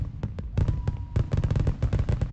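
Rapid bursts of fireworks crackle and pop in quick succession, loud and close, with a steady dense rhythm of sharp explosions.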